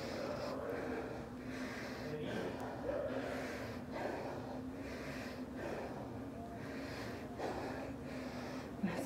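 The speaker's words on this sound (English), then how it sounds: "I don't know if you can hear me breathe" Someone breathes heavily and rhythmically during a physical therapy session, repeated audible inhales and exhales close to the microphone over a steady background hum.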